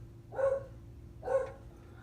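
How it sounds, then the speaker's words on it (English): A dog barks twice indoors, two distinct mid-pitched barks about a second apart, moderately close against a quiet room background. "my dog is barking"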